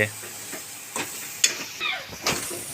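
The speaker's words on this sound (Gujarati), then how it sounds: "ટામેટાં, લીલા વટાણા, સૂકી ડુંગળી આવી રીતે ફ્રાય કરવાનો" Tomatoes, green peas and dried onion frying in a pan for a paneer curry, with a soft steady sizzle, occasional stirring scrapes and clinks rising above it, close and moderately quiet.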